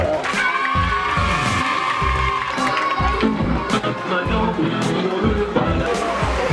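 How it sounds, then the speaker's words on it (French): A school-competition audience cheers and shouts together in an ovation, with a lively hubbub of many voices holding steady throughout. "on va applaudir pour madame et tout de suite maintenant, ovation"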